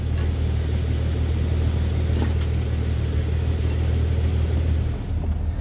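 A Jeep ZJ Grand Cherokee engine, just after an exhaust repair, runs with a steady, loud, deep rumble that barely changes, as if idling close by.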